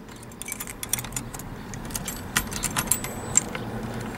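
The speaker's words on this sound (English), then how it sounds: "got the keys" Car keys jangle and clink for several seconds near the microphone, irregular metallic rattles beside a 1991 GMC Sonoma pickup with a 4.3 V6.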